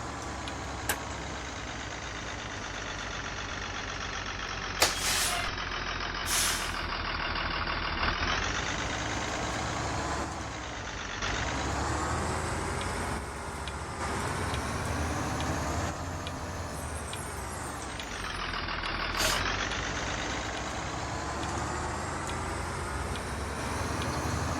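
A Blue-Bird GMC CV200 school bus driven in the game Rigs of Rods, a steady loud engine drone with shifting tone as it accelerates and slows, broken by a few brief sharp clicks.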